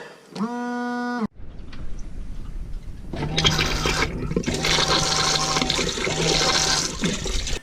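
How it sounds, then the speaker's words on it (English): A Thetford RV cassette toilet gives a short electronic tone when the flush button is pressed, then a loud, steady rush of flushing water lasting several seconds, close by. "So this is the flush button on the Thetford toilet."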